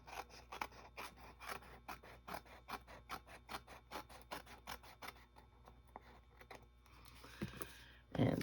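Scissors snip steadily through a paper trifold tag, a rapid run of crisp, close cuts trimming one edge, with a brief rustle of paper handling at the end.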